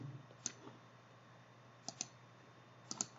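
Several faint computer mouse clicks, a single sharp click early on and then a few quick clicks in pairs, come through a quiet room with no talking.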